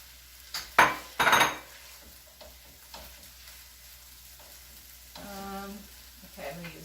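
Beef frying in a pan for Cornish pasties, a low steady sizzle punctuated early by two sharp metallic clatters of utensils and later a short rattling scrape, no talking.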